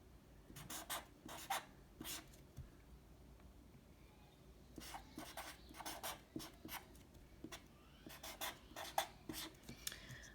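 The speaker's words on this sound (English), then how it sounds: "So give me a minute to write this out." Pen or marker writing out a math problem by hand: short bursts of scratchy strokes in quick clusters separated by brief pauses, close and fairly quiet, with no talking.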